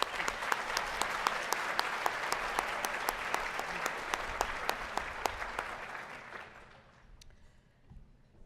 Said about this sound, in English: Let's give them a round of applause now.